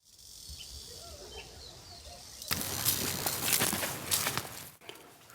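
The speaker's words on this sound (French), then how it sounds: "Des cigales." Cicadas give a steady, high, shrill buzz alone for a couple of seconds, then loud rustling and handling noise swamps the insect chorus.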